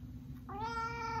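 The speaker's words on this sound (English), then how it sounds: "She's not a cat that likes being held, but she loves to scream at me" A domestic cat lets out a single loud, drawn-out meow that swells and holds, heard close and alone over a low steady room hum.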